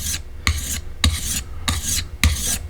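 A file or sharpening stone rasps along the steel edge of a single bevel broadhead in four steady, even strokes, loud and close, with no talk.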